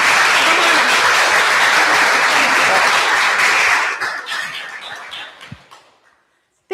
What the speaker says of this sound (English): So big claps for Nadia.